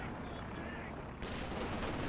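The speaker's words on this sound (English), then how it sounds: "it gets decrewed by the vet-free MG42 here" Rapid MG42 machine-gun fire in Company of Heroes 2, a dense burst of gunfire that jumps louder partway through amid busy battle noise.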